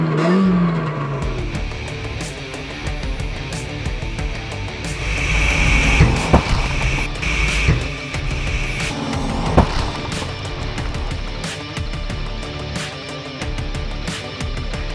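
An unprotected Hyundai Excel strikes a kangaroo crash-test dummy, giving loud broadband impacts and crunching around the middle and late seconds over continuous vehicle and engine noise, with no speech.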